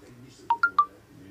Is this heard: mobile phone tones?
yes